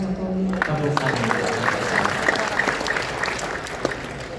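Applause from a crowd at a 2025 Indonesian political party congress, broad steady clapping with a voice calling out over it near the start, continuing evenly throughout.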